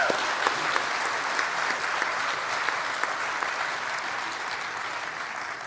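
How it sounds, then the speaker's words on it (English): A large conference audience at a national nursing forum applauds steadily, dense clapping filling the room at even loudness for several seconds, with no voices over it. "One more round of applause for the Nursing Trailblazers."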